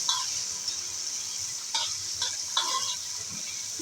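Ginger and garlic fry in a pan for a wet red chilli kharda, a continuous bright sizzle broken by several scraping stir strokes, close up and without speech.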